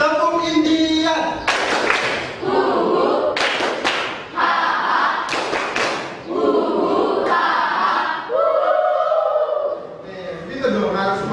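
A class of children chants and claps through the Tepuk Indian routine, loud shouted syllables broken by sharp bursts of clapping in a steady, repeating pattern, close and energetic.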